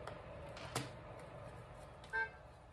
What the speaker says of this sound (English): Hear that honk?